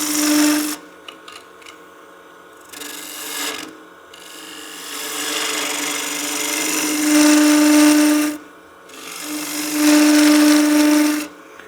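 A wooden artifact pot spinning on a woodturning lathe while a tool necks it down, harsh rasping cuts in several bursts with a whining tonal squeal and short pauses between passes.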